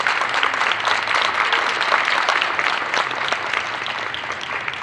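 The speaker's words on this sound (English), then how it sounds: "Let's give all of them a round of applause." A room of guests at a New Jersey Supreme Court recognition ceremony breaks into even applause, a dense, continuous patter of hands that stays steady and eases off slightly toward the close.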